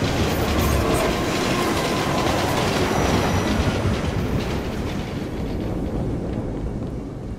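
A metro train in Assassin's Creed Unity rumbles steadily along the rails, a dense, continuous clatter and roar with wheel clickety-clack that stays loud throughout and eases slightly toward the end.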